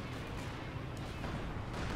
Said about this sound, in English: A lot of artillery coming down on the pack gun.